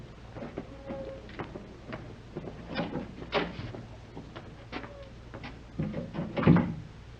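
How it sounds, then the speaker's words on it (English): A door being opened in an old radio drama, heard as a few scattered clicks and knocks of a latch and hinge over quiet room tone, with no one speaking. "I'll go ahead and open the door."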